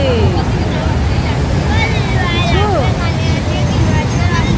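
Rough sea at Digha beach: heavy surf roars continuously and loudly close by, while a crowd of people chatters and calls out over the waves.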